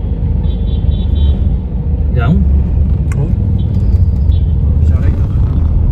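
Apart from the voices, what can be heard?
road traffic on Mall Road, Solan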